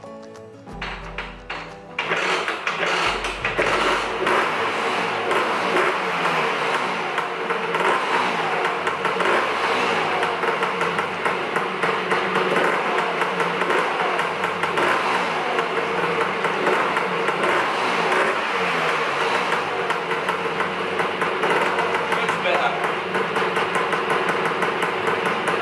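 A Lambretta scooter engine fitted with a PWK carburetor starts after a few mechanical knocks and then runs continuously, a loud, close, buzzing two-stroke idle with slight revving throughout.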